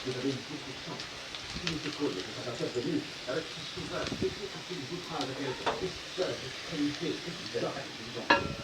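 Onions cook in a pan with a faint, uneven sizzle and scattered stirring clicks, quiet and somewhat distant, with a voice murmuring over parts of it.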